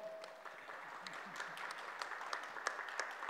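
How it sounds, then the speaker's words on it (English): Scattered applause from a small audience at a press conference, greeting the official launch of a campaign website; moderately faint, irregular claps with a low room murmur and no voices over it. "Some applause."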